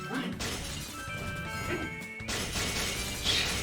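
Giant woolly Yoshi in Yoshi's Woolly World stomps and smashes through obstacles, a run of loud game crashes and thwacks over background music, with a stronger burst near the end.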